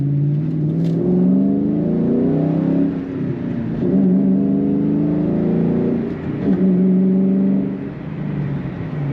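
A 2003 Ford Mustang Mach 1 V8 engine revs and accelerates up through the gears, a deep, loud rumble rising in pitch, dropping at shifts, then climbing again.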